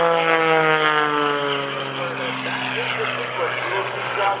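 Sean Tucker's aerobatic airplane roars past in a low, very close pass at an airshow, a loud steady engine drone with sustained harmonics that fades slightly, with crowd or commentary noise mixed beneath.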